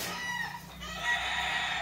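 Rooster at a gamecock breeder's yard, a short loud fowl call close by, with no talking over it.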